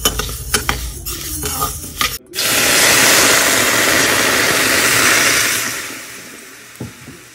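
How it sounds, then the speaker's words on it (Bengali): Mung dal being dry-roasted and stirred in a pan: a few clinks of a utensil, then a loud, close, steady rustling sizzle that fades toward the end, with no voices. "আজ রান্না করবো মুগ ডাল, ওই জন্য মুগ ডালটা একটুখানি ভাজা করে নিচ্ছি"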